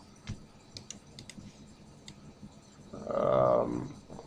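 Sparse, faint clicks of typing on a computer keyboard come in a few irregular taps and short bursts, followed by a brief hum near the end.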